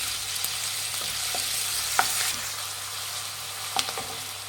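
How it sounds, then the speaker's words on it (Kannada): Onion frying with ginger-garlic paste in a pan, a continuous hissing sizzle with occasional light ladle taps and scrapes, no talking. "ಒಂದು ಟೇಬಲ್ ಸ್ಪೂನ್ ಅಷ್ಟು ಶುಂಠಿ ಬೆಳ್ಳುಳ್ಳಿ ಪೇಸ್ಟ್ ಹಾಕ್ತಾ ಇದ್ದೀನಿ ಇದು ಹಸಿ ವಾಸನೆ ಫ್ರೈ ಮಾಡಿ"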